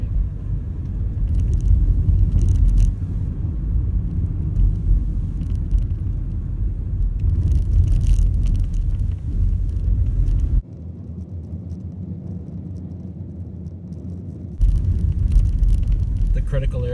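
Car pulling away from a stop at a limit line during a California DMV behind-the-wheel driving test, a steady low engine rumble throughout that drops and thins briefly before rising again.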